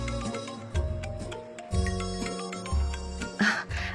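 A phone ringtone plays in repeated melodic bursts with pauses, clear and moderately loud indoors, alone without talking.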